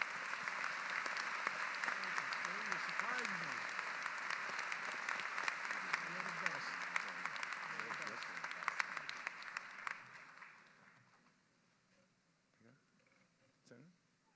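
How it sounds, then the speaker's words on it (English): Audience applause at a law school commencement ceremony, sustained dense clapping for about ten seconds before fading, with a voice speaking over it and quiet remaining at the end. "Please give a round of applause to Jeff Forcelli, class of 1969"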